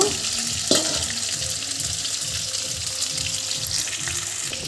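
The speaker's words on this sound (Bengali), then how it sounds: "এদিকে আলু ভাজা হচ্ছে" Potatoes frying in oil in a home kitchen, a constant bubbling sizzle with occasional louder crackles and a faint rhythmic low clatter underneath.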